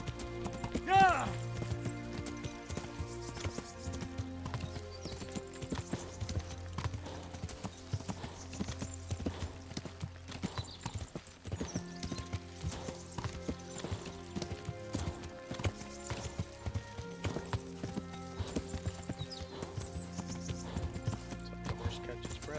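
Steady clip-clop of horse hooves in Kingdom Come: Deliverance runs under game music, with a short whinny near the start and a voice speaking at times.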